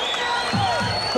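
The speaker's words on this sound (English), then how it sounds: "And the crowd's going crazy." Crowd cheering and shouting at a 1985 boxing match between Billy Chow and Milt Bennett, a lively roar with whoops rising under an excited commentator talking over it.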